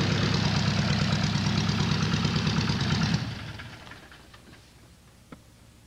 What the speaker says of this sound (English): You can run your engine a few minutes at a time at low power setting,